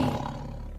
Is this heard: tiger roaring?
yes